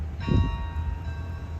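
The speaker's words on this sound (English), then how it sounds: "the noon bells started chiming, and they were playing Christmas carols with the bells on campus" Campus noon bells ring out Christmas carols, with a single bell strike blooming and ringing on with a sustained metallic hum over a low rumble.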